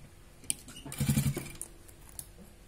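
Domestic sewing machine stitching cloth for a fabric basket: a short, quiet burst of rapid mechanical stitching in the middle of the clip, between brief pauses with low room noise and no talk.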